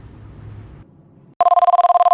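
Telephone in The X-Files video game ringing in a rapid, loud electronic trill of evenly spaced pulses, starting suddenly after a low background hum.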